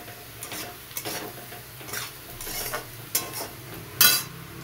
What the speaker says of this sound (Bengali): আদা, পেঁয়াজ, রসুনগুলো লাল লাল করে ভাজা হয়ে গেছে